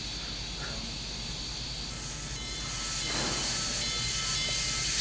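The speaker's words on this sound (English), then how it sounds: "I think we're hearing a little bit of steam hissing there." Steady hiss of steam escaping from the 1785 steam locomotive, a continuous broadband rush that holds level and swells slightly louder toward the end, with no talk over it.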